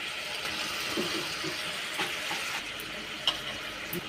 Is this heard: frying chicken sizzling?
yes